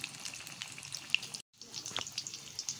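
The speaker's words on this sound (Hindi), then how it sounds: "थोड़ा सा हल्के हाथों से इन्हें थोड़ा फ्राई कर दें।" Capsicum and tomato pakoras fry in hot oil, a close, steady crackling sizzle with sharp pops, briefly cut to silence midway before resuming.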